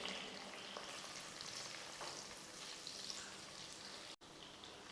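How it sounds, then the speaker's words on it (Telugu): Onion slices frying in hot oil in a pan for a chicken gizzard and liver fry, a continuous dense crackling sizzle, fairly quiet and even, with no voices. "ఆయిల్ హీట్ అవ్వగానే ఉల్లిపాయ ముక్కలు వేసుకొని వేయించుకోవాలి"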